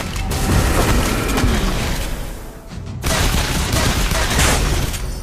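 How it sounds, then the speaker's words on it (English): Turret destroyed in a Granger match, heard as loud booming blasts and crackling gunfire-like bursts that pile up densely, dip briefly, then surge again. "You destroy the turret."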